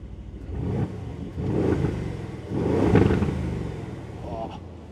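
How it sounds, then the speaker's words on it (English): A 2022 Aston Martin Vantage V8 revs up three times in quick succession, each throttle blip swelling to a loud throaty roar before dropping back to a burbling idle, fairly close by, with someone talking over it. "I'll give you a couple of revs for you guys."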